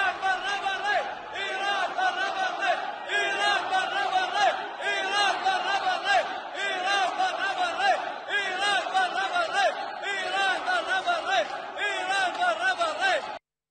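A crowd of Iraqi protesters, supporters of the Sadrist movement, chanting anti-Iran slogans in rhythmic unison, with steady repeated phrases sustained for the whole stretch and heard at a moderate distance.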